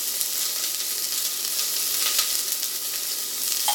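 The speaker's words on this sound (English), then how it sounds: "So you just need to fry them." Carrots fry in a pot for a carrot soup, giving a steady close sizzle with crackling spatter that runs throughout, no voices.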